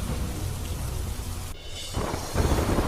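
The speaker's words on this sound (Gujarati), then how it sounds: "ભારે વરસાદના કારણે રસ્તા પાણી થયા" Heavy rain falls in Banaskantha, Gujarat, with water flooding the roads, a dense, loud hiss and rumble that thins briefly midway before growing heavier again.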